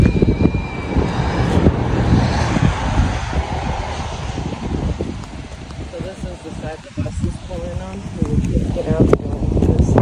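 Gusty wind blows across an outdoor microphone beside a school building in Portland, Oregon, a continuous broad rumble with rising and falling buffets, alongside faint distant traffic and occasional voices.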